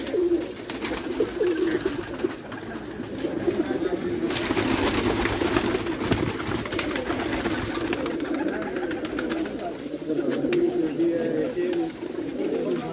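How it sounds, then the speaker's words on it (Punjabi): Pigeons of a breed brought from France, kept by a pigeon fancier, coo steadily amid a busy background murmur, moderately close and continuous throughout. "ਇਹ ਵੀ ਤਾਰਕ ਸ਼ਾਹ ਸਾਹਿਬ ਦਾ ਉੱਥੋਂ ਫਰਾਂਸ ਤੋਂ ਆਇਆ ਕਬੂਤਰ"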